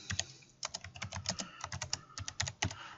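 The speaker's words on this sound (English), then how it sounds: "We type this into the big search box" Rapid typing on a computer keyboard while entering a journal title into a library search box, with close, crisp keystrokes in uneven bursts and short pauses.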